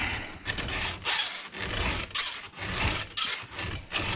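File strokes rasp across the chain of a Homelite Super XL12 chainsaw during sharpening, a steady rhythm of about eight close, gritty scrapes with brief pauses between them and no talk.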